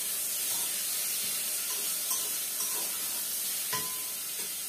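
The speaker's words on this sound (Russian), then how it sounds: "Мясо обжаривать буду прямо в судочке," Steady, even sizzle of meat for plov frying in a cooking pot, with a few faint clinks and small pops over the continuous hiss.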